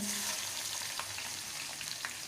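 Onion and crushed garlic fry in oil after mustard seeds and cumin, a steady close sizzle broken by a few faint stirring clicks, with no voices.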